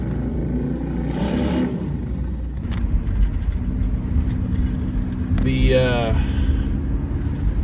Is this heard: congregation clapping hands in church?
no